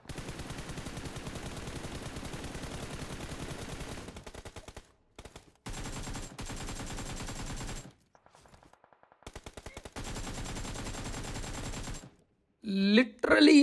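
Rapid automatic rifle fire from PUBG Mobile gameplay, likely an M4, in long sustained bursts broken by short pauses, loud and close, ending in a brief sharper burst of other in-game sounds.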